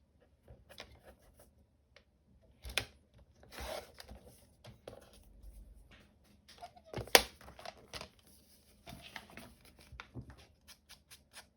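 Paper being cut by hand for a scrappy mini journal, quiet scattered snips, rustles and crinkles with irregular pauses, faint and close with no talking.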